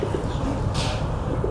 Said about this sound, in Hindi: फुल बड़ा कबूतर, फ्लाइंग कबूतर है पूरा बड़ा वाला।